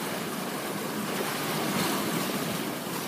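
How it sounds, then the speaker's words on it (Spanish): Waves slosh and splash against the bow of a reefed sailboat making close to 8 knots, a steady broadband wash of water and wind that swells slightly midway, with no voices. "Las olas saltando por la proa y nada, fenómeno."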